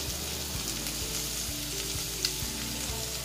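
Saltfish sizzles in a pan with a constant, bright frying hiss, broken by a few soft scraping stirs and a faint clink, close and moderately loud, no voices.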